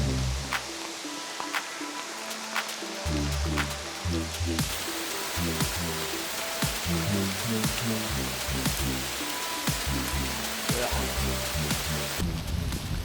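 Heavy rain pours at Gwrych Castle near Abergele, Wales, a dense continuous hiss of drops with intermittent low thumps and rustles of nearby movement and no clear talk.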